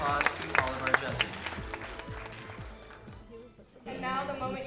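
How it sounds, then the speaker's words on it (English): Applause from a talent show audience greeting the judges, a broad wash of clapping mixed with music, cheering and voices, dipping briefly near the end before swelling again. "Please give a big round of applause to all of our judges."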